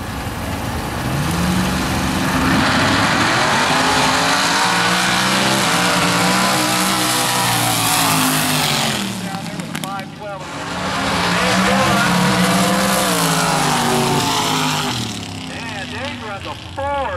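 A nostalgia Super Quick drag racing car roars through a sustained burnout, its engine howling loud and close for long stretches with a brief dip between pulls, while a track announcer talks over it.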